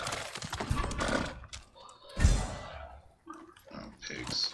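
Pigs grunting in the samurai video game Ghost of Tsushima, mixed with horse hoofbeats and a whinny, plus other game effects and someone talking over the scene.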